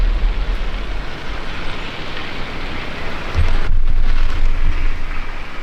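Steady outdoor rain in Grindelwald, Switzerland on a cloudy morning, a dense broadband hiss that swells slightly louder in the second half with low rumbling underneath, no voices.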